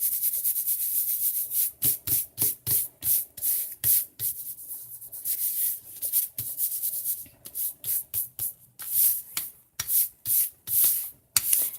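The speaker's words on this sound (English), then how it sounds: "rub off the excess glue" Excess glue being rubbed off a paper envelope with repeated brisk scrubbing strokes, close and dry, pausing briefly between bursts.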